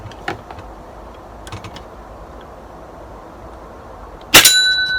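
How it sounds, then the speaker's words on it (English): Metal bell struck once near the end, a loud sharp clang ringing on with a sustained tone after a few quiet knocks and handling noises. "let's take one more shot at the bell just to make sure it works still."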